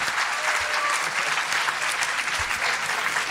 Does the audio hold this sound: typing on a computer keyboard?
no